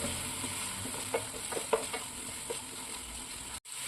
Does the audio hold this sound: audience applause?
no